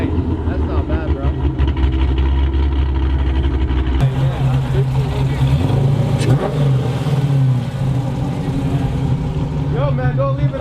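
A Hemi V8 fitted with a Hellcat OEM catback and American Racing long tube headers idles with a deep lumpy burble, with occasional blips of the throttle, close and loud while people chat nearby.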